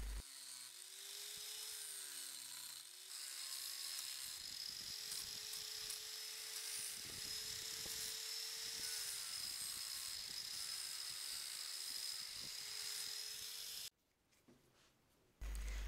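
A sanding disc on a power tool grinding and shaping the steel spikes of a homemade mace: a continuous high whine with a steady motor drone and gritty scraping, loud and alone, then it cuts off abruptly near the end.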